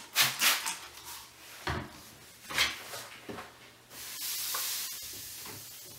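Water spritzed from a spray bottle onto a fused t-shirt quilt, several short close hissing sprays with soft handling knocks between them, ending in a longer, softer hiss.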